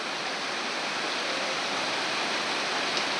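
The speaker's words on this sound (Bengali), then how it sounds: "এখন বৃষ্টি আইছে।" Heavy rain pours down in a steady, dense hiss during a windy storm, loud and continuous with no voices.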